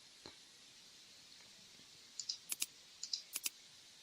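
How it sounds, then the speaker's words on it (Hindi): A computer mouse clicks in desktop publishing software: a single faint click, then a quick cluster of sharp, close clicks in pairs, alone in a quiet room. "उसके बाद क्लिक ओके।"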